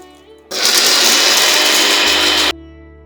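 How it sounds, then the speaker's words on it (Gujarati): Electric grinder whirring loudly and steadily for about two seconds while grinding dry chilli, cumin and salt, starting and stopping abruptly, with no talking. "સૂકા મસાલાઓ પીસી લઈએ."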